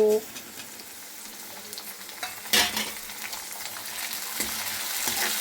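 Onions and tomatoes frying in a pan for masoor dal, with a steady sizzle, a sharp stirring clatter midway and a few more scrapes near the end.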